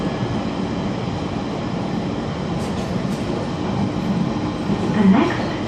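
Steady rumble of a train ride with continuous rolling rail noise and faint rattles, close and constant, swelling slightly toward the end.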